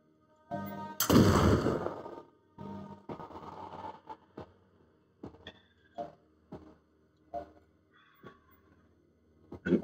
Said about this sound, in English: An aimed shot.